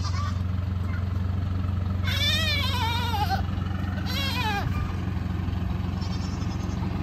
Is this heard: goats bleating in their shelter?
yes